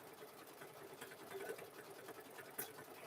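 A sewing machine runs continuously while stitching a quilt made from jeans, a steady, fast mechanical whir with a rapid needle rhythm, close and unbroken throughout.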